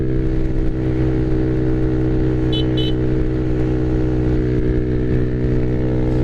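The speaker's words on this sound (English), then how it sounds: "they got their car stuck in the ice" SUV engine stuck on ice, a steady close, loud drone with strong low harmonics that holds constant throughout, joined by a brief double horn-like tone near the middle.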